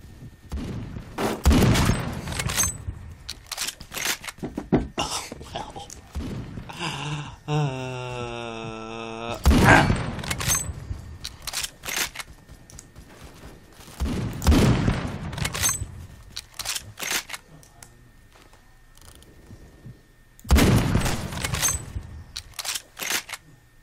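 Gunfire in the Roblox Phantom Forces shooter game, loud bursts of rapid shots in several clusters separated by quieter stretches, with a brief electronic tone between volleys.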